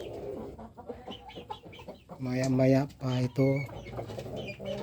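Rhode Island Red chickens clucking close by in a cage, with a burst of louder, harmonic calls in the middle while a person speaks briefly over them.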